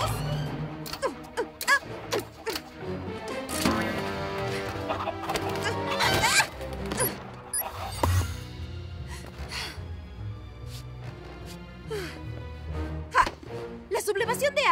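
Chickens cluck in the Minecraft video game, a busy flock of repeated clucks mixed with dense game music and effects while people talk excitedly over it.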